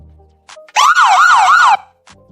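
A single short siren effect added in a video edit, a loud wailing tone that sweeps up and down three times in under a second, standing alone with faint clicks before and after.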